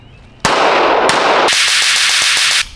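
A Springfield SA-35 pistol firing PMC Bronze 115 grain jacketed hollow point rounds gives a few very loud, close shots in quick succession that blur into a harsh, sustained burst.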